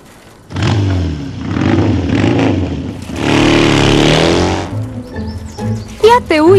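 A motorcycle engine revs loudly in two surging bursts, rising and falling in pitch, before fading out. Voices break in toward the end.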